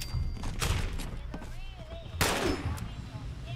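Gunfire in the Fallout 76 video game: a few sharp, loud gunshot bursts ring out amid game sound effects, with a strong blast near the start and another around two seconds in.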